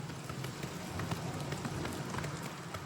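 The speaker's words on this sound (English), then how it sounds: "Oh man, big storm coming through." Rain from a storm in Oblivion Remastered, a dense, steady hiss of rainfall on surfaces with no thunder, continuous and moderately loud throughout.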